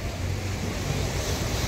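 Wind blowing in a flooded street in San Cristóbal, Ecatepec, a steady loud rush of air buffeting the microphone, with no voices.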